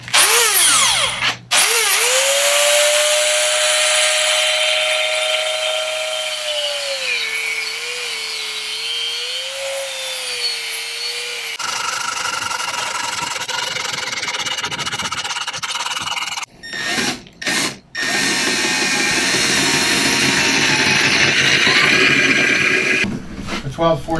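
A power tool whirs in loud, extended bursts while tightening a stainless steel 1/4 bolt on a Jackson Kayak CoosaX, its pitch bending up and down, then stopping as speech and clatter take over.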